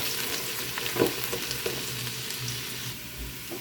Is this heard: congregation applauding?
no